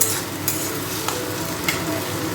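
Chicken frying with spices in a pan for chicken kosha, a steady close sizzle with a few soft scraping stirs, no talk.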